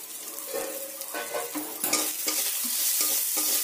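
Banana stem is stir-fried in a pan with turmeric, Kashmiri chilli powder and salt, producing continuous close sizzling with scraping stirs and a few louder clanks of the spatula.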